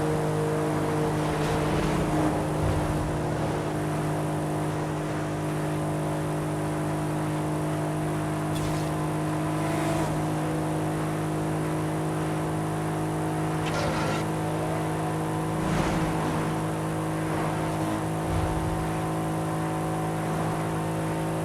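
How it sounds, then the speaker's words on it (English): Twin-turbo V8 car engine with stock exhaust in Forza Horizon 5, a muffled, steady drone held throughout with a few brief surges in revs, sounding close and continuous without any talk over it. "Right now it's pretty muffled because, you know, we have the stock exhaust plus twin turbos."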